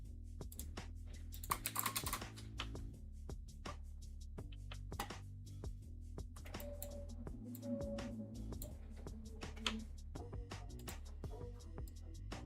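Steady, close tapping on a computer keyboard, with irregular bursts of keystrokes and brief pauses, sounding alone with no voices.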